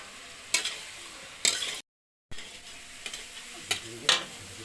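Pointed gourd and potato pieces are stirred into spices frying in oil, with a soft sizzle under a few loud spatula scrapes and a brief cut to silence midway.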